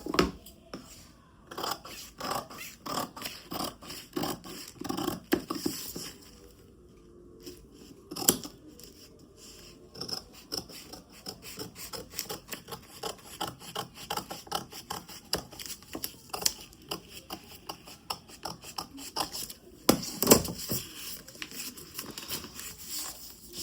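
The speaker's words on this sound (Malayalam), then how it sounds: "ഇനി നമുക്കിത് കട്ട് ചെയ്തെടുക്കാം." Scissors cut out a paper sleeve pattern for a blouse, making a long series of quiet, close snips and crisp paper rustles in an irregular rhythm.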